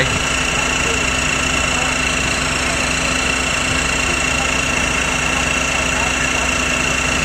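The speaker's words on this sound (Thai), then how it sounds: "เริ่ม ยกแล้วนะครับ" Steady electric whine and drone of a 12-volt, 5-ton electric car jack motor lifting a car, a continuous unchanging hum with a constant tone, close and fairly loud, with someone speaking over it.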